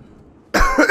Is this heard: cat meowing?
no